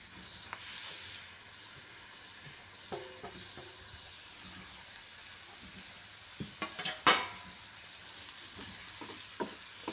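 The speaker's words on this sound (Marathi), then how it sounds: "आता यामध्ये आपण जी चपाती आपण चुरून घेतलेली आहे ती टाकूया।" Crumbled chapati sautéing in a pan gives a steady, soft frying hiss, broken by scattered scrapes and clinks of a spatula stirring, with a sharper clatter near the middle.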